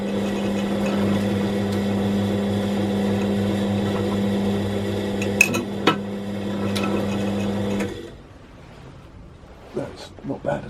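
A machine drives a dull tap into metal, a steady loud motor hum with a few sharp clicks and knocks, then it stops and quieter handling noises follow, with someone talking.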